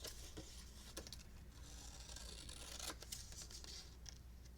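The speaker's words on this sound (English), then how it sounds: "I'm going to just cut these out" Scissors snip through paper pieces for a handmade card, giving faint close crisp cuts and soft rustling, with a few distinct snips standing out against a quiet background.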